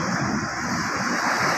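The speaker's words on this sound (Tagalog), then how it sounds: "malakas pang alon ngayon dito sa amin" Strong sea waves surge against a seawall after Typhoon Kristine, a steady loud roar of surf and water with no pauses.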